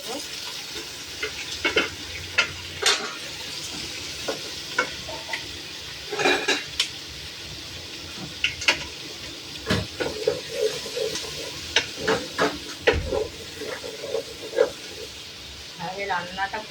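Onions and potatoes sautéing in a pan for an egg and potato curry: a constant low sizzle broken by repeated scraping and clinking stirs of a utensil against the pan, close by, with a voice talking at times.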